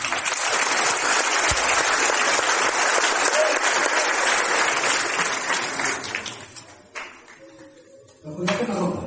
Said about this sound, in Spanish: Les doy un aplauso por esta visión